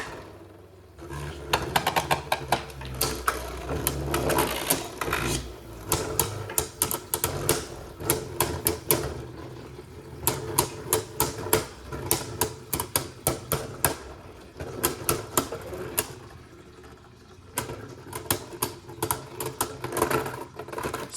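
Beyblade Burst Pro Series spinning tops clash in a plastic stadium, with rapid sharp clattering hits and a whirring rattle in bursts after each launch. There is no talk.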